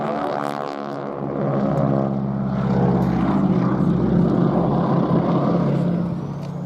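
Propeller-driven aerobatic biplane roaring past at the Duxford air festival, a loud steady engine drone with rising and falling pitch as it flies over, no voices.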